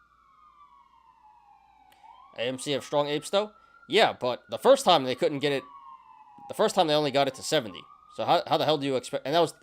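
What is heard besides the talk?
emergency vehicle sirens passing outside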